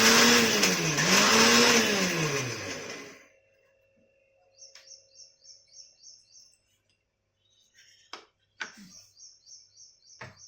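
A mixer grinder coarsely grinds split mustard seeds for a raw mango pickle, a loud whirring motor burst of about three seconds that cuts off. Quieter clicks and a couple of sharp knocks follow.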